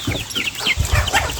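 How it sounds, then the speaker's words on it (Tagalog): Chickens on a farm give short, busy clucks at close range, several overlapping calls in a brief burst. "Nabalahog sa manok diri"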